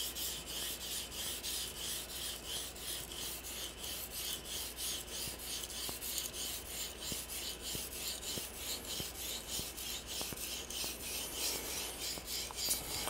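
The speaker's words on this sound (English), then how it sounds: "we'll go ahead and sharpen up a little bit. You'll be able to hear the feedback and see how it generates mud or cuts the metal" Steel knife blade rubbed steadily against a Tajima Nakatoishi Japanese natural whetstone, giving a continuous close raspy scraping with a regular back-and-forth stroke rhythm throughout, with no talking.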